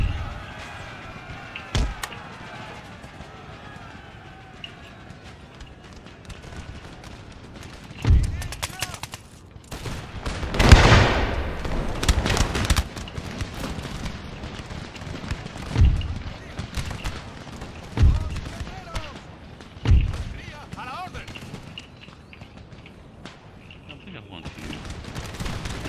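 Army line infantry firing musket volleys in the Napoleonic-era strategy game Empire: Total War with the Darthmod mod, scattered crackling bursts and heavier booms across a long battle, with someone talking intermittently.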